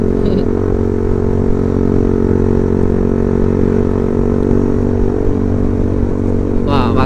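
A Yamaha Vixion motorcycle engine drones loud and steady on a morning group ride, its constant buzzing roar dominating with a brief rattle near the end, and no clear revving peaks.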